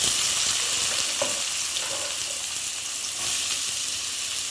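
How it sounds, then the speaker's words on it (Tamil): Onions sauté in hot oil with popped mustard seeds for spicy pepper chicken. A continuous close sizzle carries a few soft stirring clinks, and no one speaks. "வெங்காயம் நல்லா வதங்கட்டும்."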